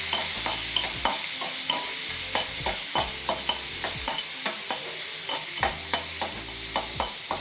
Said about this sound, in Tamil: பொடியாக நறுக்குன சின்ன வெங்காயம், நல்லா வதக்கிக்கலாம்.